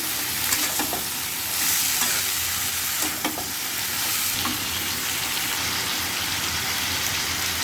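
A mustard dish frying in a pan and being stirred, giving a steady close sizzle with brief scraping stirs throughout.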